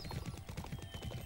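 Quick, steady clip-clop of horse hooves trotting in the video game Bibi & Tina: New Adventures with Horses, soft and slightly distant over a low background hum.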